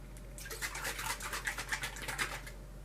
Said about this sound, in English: We're going to start off with our shaving cream. And we're just going to put a nice thin layer on here.